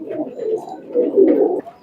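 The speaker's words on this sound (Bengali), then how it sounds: "এটা তো মনে হয় নর কবুতর" Soft, throaty cooing from a male Teddy pigeon, a fancy loft breed, rising and falling in a continuous low murmur for nearly two seconds, close to the listener with no talk over it.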